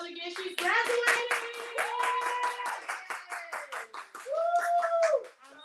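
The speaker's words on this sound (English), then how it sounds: "let's give a round of applause again" A small group claps in a steady, fairly close round of applause for a graduating student, with voices whooping and cheering over the clapping throughout.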